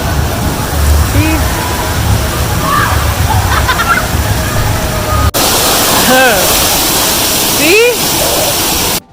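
Constant rushing and sloshing water fills an indoor waterpark at a Holiday Inn Suites hotel, with water slides pouring steadily, while a person speaks briefly and children's voices echo in the background.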